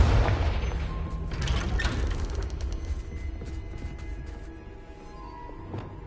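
One booming Confringo blast from Hogwarts Legacy opens loud and close, then settles into a rumbling, crackling fade with scattered small pops and a lighter thud near the end.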